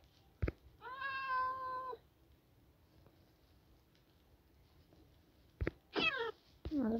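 A Minecraft cat meows in a drawn-out, tonal cry, followed later by a couple of sharper, quicker meows, with soft clicks between them in a quiet setting.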